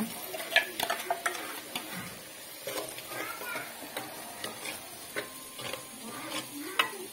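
A spoon scrapes and stirs a tempering with grated coconut in a pan, with soft irregular clinks and a faint sizzle underneath.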